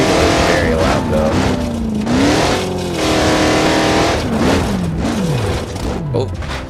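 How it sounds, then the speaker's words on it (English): Loud truck engine revs and labors while crawling a Johnson Valley off-road trail in BeamNG.Drive, pitch rising and falling steadily throughout, close and continuous. "It's hard to talk with how loud this engine is though."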